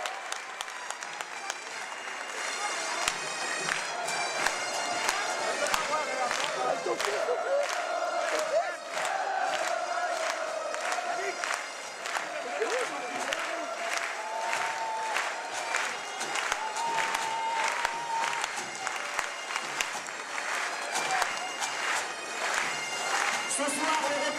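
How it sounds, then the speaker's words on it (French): A stadium crowd at a Coupe de France event at the Roudourou applauds and cheers, loud sustained clapping mixed with shouts and whistles lasting the whole time, with an announcer's voice occasionally over it. "Vous pouvez vous applaudir."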